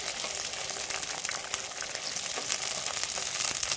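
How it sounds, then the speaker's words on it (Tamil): Eggplant sautéing in a pan for fenugreek kuzhambu gives a steady, close sizzle of frying that runs without pause and stays fairly even in level, with no talking. "ஆனால் இன்னும் கொஞ்சம் நேரம் வதங்கணும்"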